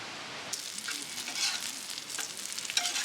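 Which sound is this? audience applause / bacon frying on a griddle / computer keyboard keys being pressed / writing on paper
bacon frying on a griddle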